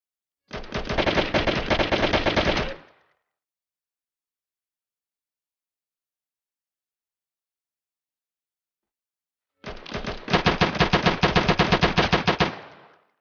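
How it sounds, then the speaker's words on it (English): World War II machine guns firing in the Roblox game: two loud, rapid, continuous bursts of automatic fire, each lasting a few seconds and separated by a long stretch of silence. "So let's just get a AI gunner"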